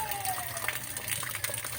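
Tap water gushes and splashes into an Ariston water heater during a repair test, a faint, steady flow with small bubbling bursts.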